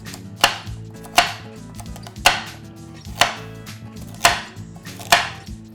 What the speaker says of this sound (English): Just go ahead and chop them up in a bite-sized chunks.